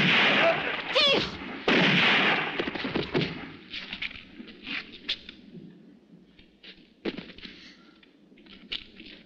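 Gunfire in a French-dubbed western, several sharp shots ringing out in quick succession at the start, then scattered fainter reports and echoes trailing off, with a brief shouted voice among them.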